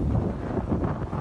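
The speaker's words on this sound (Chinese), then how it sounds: "明明是晴空万里，却刮起11级阵风，吊桥被风吹得上下晃动" Strong gusts of a force-11 downslope wind in Manzhou, Hengchun, batter a suspension bridge, heard as a loud, rumbling, buffeting roar on the microphone that swells and eases in waves.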